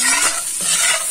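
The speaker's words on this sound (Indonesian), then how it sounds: "Ini kita gorengnya aduk sampai kekuning-kuningan ya." Bean sprouts and tofu stir-fried in a pan, a short burst of spatula stirring over a loud sizzle.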